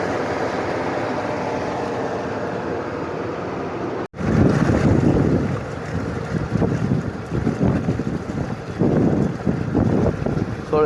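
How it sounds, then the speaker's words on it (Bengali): A river-crossing boat pulls away with a steady rumbling drone and wind buffeting the microphone, a brief cut, then churning water and engine noise with faint voices in the background. "তো আমাদের বোট ছেড়ে দিয়েছে এই যে।"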